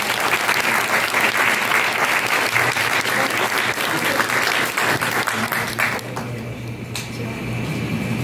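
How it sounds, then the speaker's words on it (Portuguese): Sustained applause from an audience at an academic literature event, dense clapping at steady strength that thins slightly toward the end, with faint background murmur. "Vamos dar uma salva de palmas."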